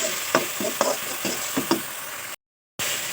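Leftover rice fries in oil in a pan while a spatula scrapes and stirs it in several distinct strokes over a soft, steady sizzle, followed by a brief pause.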